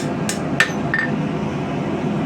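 A hand hammer strikes steel on an anvil while forging a feather-pattern knife blade, giving three quick, sharp, ringing blows early on, then a quiet low hum.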